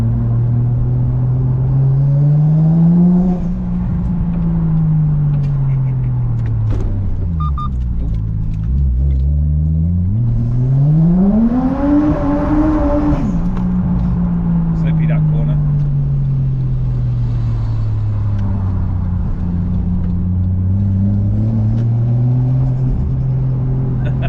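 A Toyota Chaser JZX100 engine revs up and down through several long swells while driving at night, a loud rising and falling drone with a sharp climb midway.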